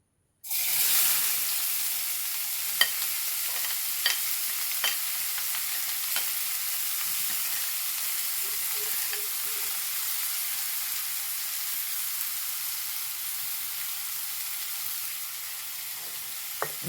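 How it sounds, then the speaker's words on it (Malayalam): Sliced onion fries in hot oil with a loud, steady sizzle that starts abruptly and holds evenly throughout, broken by a few faint clicks of a stirring spoon. "എണ്ണ ചൂടാക്കുന്നത് ഇതിലേക്ക് സവാള ഇട്ട് കൊടുക്കണ്ടേ"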